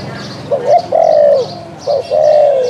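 A decoy dove calls close by during bird trapping in Phu Yen, giving two short pairs of soft, rounded coos separated by a brief pause.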